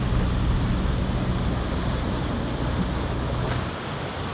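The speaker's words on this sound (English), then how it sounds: "The squall was a pretty good one, with apparent winds whipping up into the mid-20s" Strong squall wind roars across a sailboat at sea, with the broad wash of waves churning continuously beneath it. The gusting stays loud and steady for the whole stretch, and there is no talk.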